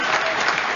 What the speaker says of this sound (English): Well, they clapped that